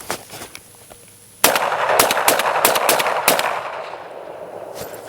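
Rapid semi-automatic fire from a Beretta 1301 Tactical LE shotgun on an outdoor range: after a quiet moment, a quick string of loud, close blasts rings out back to back, then the echoes fade.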